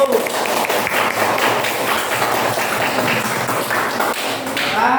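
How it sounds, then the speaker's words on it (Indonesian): A classroom of students gives applause to a presenting group, a dense, continuous patter of many hands clapping at once across the whole stretch, with some voices mixed in underneath. "Kita beri tepuk tangan dulu untuk kelompok 1."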